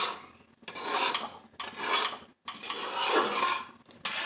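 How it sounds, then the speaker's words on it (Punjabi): Dry semolina roasted in a pan with no ghee or oil, stirred in four long rasping scrapes separated by short pauses, close and fairly loud with no talking. "ਸੂਜੀ ਦੇ ਵਿੱਚ ਕੁਝ ਨਹੀਂ ਪਾਉਣਾ ਸਾਪਾ ਸੁੱਕੀ ਸੂਜੀ ਭੁੰਨਣੀ ਹੈ"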